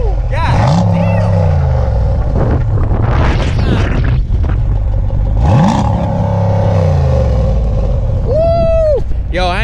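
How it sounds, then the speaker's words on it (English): A 2014 Jeep Grand Cherokee SRT with an aftermarket exhaust revs hard in loud repeated bursts with deep booming blasts and crackles, close up, amid excited shouting. "That exhaust sound crazy though."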